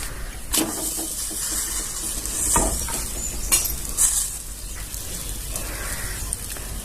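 Ukid poli flatbread cooking with ghee on a hot griddle, a steady sizzle with scattered scrapes and light taps of a spatula on the pan, close by and moderately loud.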